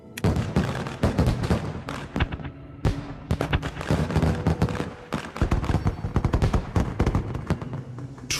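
Video game fireworks over the Sierra Madre in Fallout: New Vegas Dead Money: rapid bursts crackle and bang in dense, loud volleys, with a brief gap before the popping resumes.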